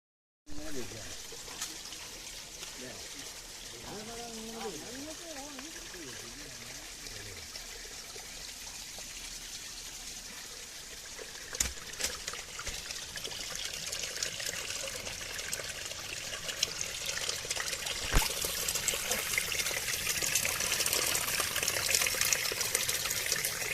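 Steady rushing and splashing of a small spring-fed waterfall, growing louder and fuller toward the end, with a brief voice early on.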